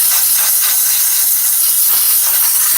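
A steam cleaner hisses in a steady, loud, continuous rush while the steering wheel and a towel are steamed during interior detailing of a Toyota Highlander, with no talking over it.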